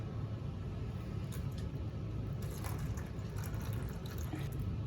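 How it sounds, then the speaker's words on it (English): Water poured into an indoor plant tray as it fills up, a steady low running-water wash with a soft rumble throughout, close and alone without talk. "I'm just going to put water into the tray and let all the plants soak up as much water as they want for now."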